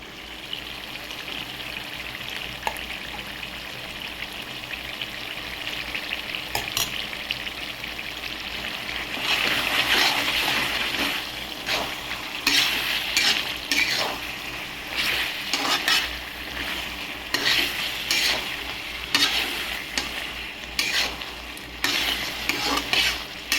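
Ground masala of onion, poppy seeds, cinnamon and cloves is stirred into a sizzling cucumber chicken curry, steady frying hiss with frequent scraping stirs growing busier and louder after the first few seconds.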